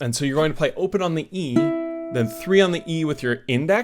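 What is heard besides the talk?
No distinct noise like a dog, phone or traffic.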